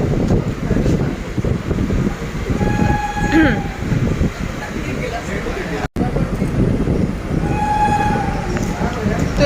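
Steady rumble inside a moving train coach with an otherwise empty carriage, a broad low roar filling the whole stretch, with brief tonal squeals or distant horn notes rising above it; people talk intermittently over the noise.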